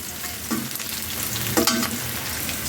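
Chopped onion, garlic and green chili fry in a pan, giving a steady close sizzle with a few louder bursts as the pieces are stirred, and no voices.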